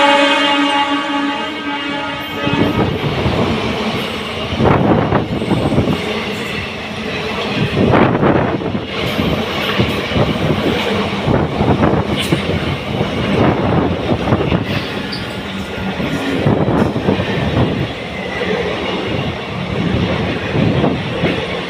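The Kannur–Alappuzha Executive Express passes Punkunnam railway station in Kerala, a loud, sustained rumble of wagons with rhythmic wheel clatter going by close at hand and no talk.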